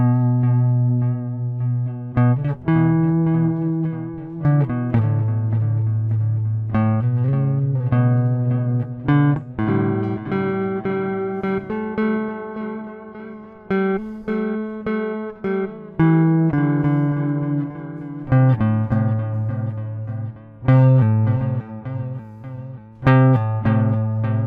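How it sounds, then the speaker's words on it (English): Guitar through a Boss DD-7 digital delay pedal in modulate mode, giving a gentle chorus-like wavering to sustained, overlapping notes and chords that ring continuously, close and steady with no talking. "this produces a pleasant chorus effect by adding a small amount of undulations to the effect sound"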